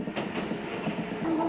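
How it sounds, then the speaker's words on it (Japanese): A Kintetsu/Hanshin rapid express train pulls into the Kobe-Sannomiya terminal, wheels rumbling steadily on the rails before a sharp, rising squeal near the end as it brakes. "電車はまもなく終点の神戸三宮に到着します"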